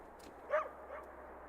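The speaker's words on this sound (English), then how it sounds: "Bark." A single short dog bark from the Casualties: Unknown video game, a mid-range yip standing alone over a quiet, low background hum.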